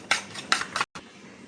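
A utensil beats an egg mixture with coriander and onion in a bowl, producing a few quick scraping, clinking whisk strokes in a rapid burst, then a brief pause and quieter residual noise, close and without speech.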